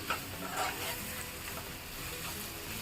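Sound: stirring drumstick curry with spices in pan

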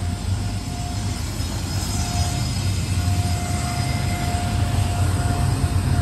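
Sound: freight stack train passing

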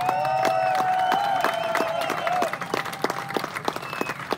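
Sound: audience applauding veterans at a rally

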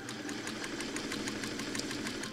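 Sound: black sewing machine stitching quilt pieces

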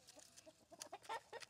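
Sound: chickens clucking

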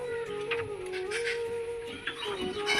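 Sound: pigeon vocalising

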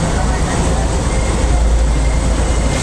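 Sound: passenger train moving, Sri Lanka

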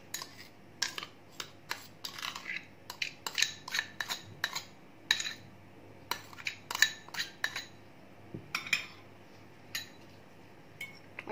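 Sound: mixing mashed eggs with pepper, salt and mayonnaise

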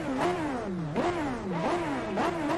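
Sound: Radical SR3 engine revving in Assetto Corsa video game

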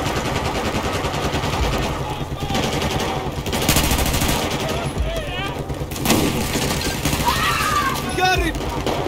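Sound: gunfire in video game Battlefield 4

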